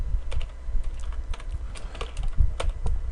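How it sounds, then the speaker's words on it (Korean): Computer keyboard keys pressed in a steady run of close, crisp taps while entering text and tab spacing, with no voice. "그 다음에 스플링 쓰고 바로 탭 키를 누르시라는 거예요"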